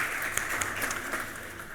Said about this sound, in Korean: 우리 아이들을 위해서 박수로 한번 위로하고 축복하며 나아가면 좋을 것 같습니다.